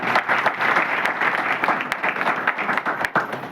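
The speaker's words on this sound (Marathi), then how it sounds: "त्यांच्यासाठी का जोरदार टाळ्या करूया" An audience at an award ceremony applauds: dense, sustained clapping from a crowd that holds steady and close for the whole stretch.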